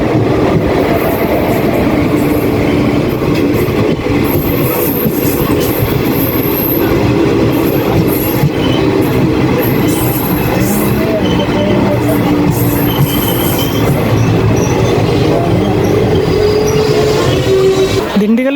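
A passenger train pulls out of Dindigul Junction in India, heard from inside a crowded general-class coach: a steady, loud rumble of wheels and carriage noise with rattling and faint squeals throughout, building as it gathers speed.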